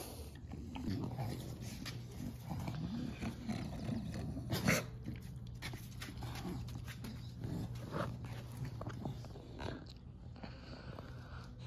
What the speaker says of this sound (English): Yeah. Dogs.